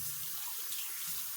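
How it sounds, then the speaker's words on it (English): Hands being washed with soap under a running kitchen tap, a steady close hiss of water for the whole short stretch. "Wash my hands with some soap,"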